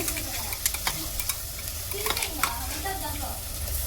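Ginger garlic paste fries with mutton in a pan for Ambur-style biryani, a steady close sizzle with scattered stirring scrapes and clicks throughout.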